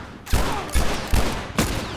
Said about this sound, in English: Come on, fire back.